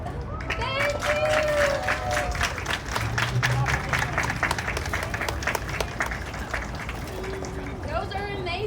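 Audience applause at the close of a live concert, steady dense clapping from a large crowd with some cheering and crowd murmur, sustained loudly throughout.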